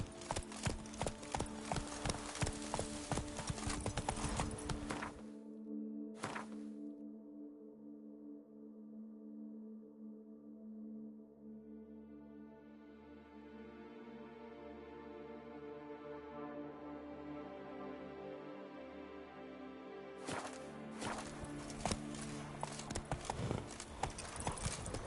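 Roach, Geralt's horse in The Witcher 3, gallops in a rapid drumming rhythm at the start and end, with a long musical lull in the middle where the hoofbeats fade out.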